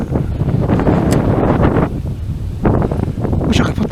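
Strong, gusty wind on the Murray River at Tocumwal during a fishing trip, roaring and buffeting the microphone loudly and almost without pause, easing briefly before surging again.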